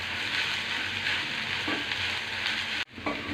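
Coconut and mint sizzle in a hot pan for chutney, giving a steady, loud crackling hiss throughout with a brief break near the end as the pan is stirred.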